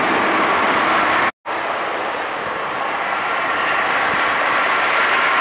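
An intercity bus roars past on a Trans-Java toll road, a loud, steady broadband rush of tyres and engine filling the clip, with a brief cut in the sound and continuous traffic noise.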